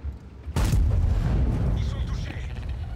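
A tank cannon fires in a tank video game, AMX M4 54: one sudden loud boom followed by a long rumbling decay, with a voice talking.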